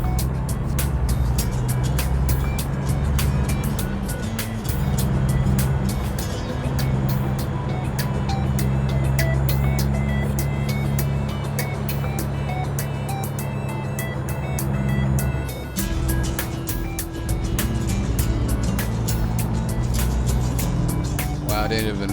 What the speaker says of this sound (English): I didn't even realize I was redlining the truck at that time.